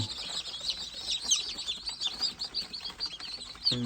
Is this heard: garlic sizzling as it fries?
no